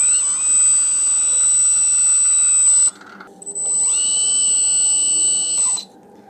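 An SM770 skid-steer tracked loader whines loudly as its hydraulic lift cylinders work, a sustained high tonal whine in two long runs separated by a brief drop.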